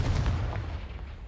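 A Confringo spell explodes in the video game Hogwarts Legacy: one heavy, low booming blast that hits at once and rumbles away over about a second.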